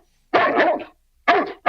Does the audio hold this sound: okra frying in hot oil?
no